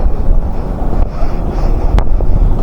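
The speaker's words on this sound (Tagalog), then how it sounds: "Ang lamig na simoy ng hangin." Steady wind buffeting outdoors, a loud continuous low rush with gusts, no voices.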